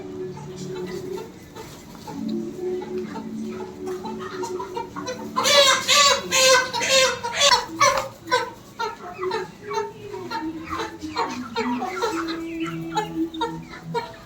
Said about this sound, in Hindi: এটা হচ্ছে বনরাজ কুকুড়া